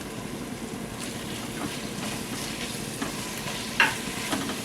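Red chilli, turmeric and garam masala powders stirred into a frying pan for chicken biryani, giving a steady low sizzle with scraping stir strokes and one sharper clink near the end, no talking.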